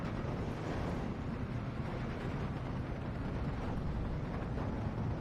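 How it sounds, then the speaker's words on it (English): Bombing run explosions in the Steel Division 2 war strategy game, a dense continuous roar of overlapping blasts and rumble, loud and unbroken. "Nasty bombing runs."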